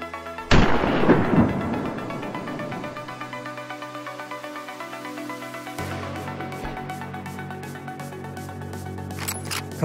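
A hunting rifle fires once at a wild boar, a loud sharp crack followed by a long rolling echo, then a quieter metallic click or clatter later on, with no talking.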